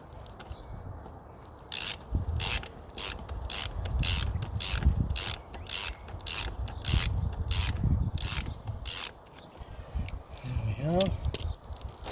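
Rapid rhythmic scraping and brushing as gunk is cleaned off Land Rover hub bolt threads, a run of sharp bursts repeating in quick strokes with brief pauses, close and fairly quiet.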